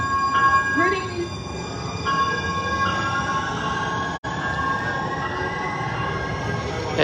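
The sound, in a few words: train passing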